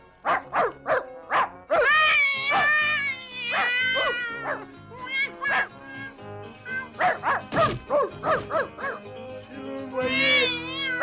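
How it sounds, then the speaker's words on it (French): Cartoon cat meowing repeatedly in a series of close, loud, whiny cries, with an animated dog character barking among them and a voice speaking near the end. "c'est un chat et moi je cours après les chats"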